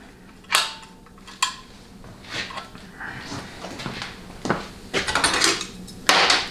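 A manual valve rod is fitted into a transmission valve body during a 700R4 rebuild, producing scattered close metallic clinks, taps and scrapes, a few sharp knocks standing out against quiet handling noise.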